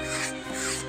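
Wood of a handmade violin being sanded or rasped, two long rubbing back-and-forth strokes close up over a low steady hum, with no talk.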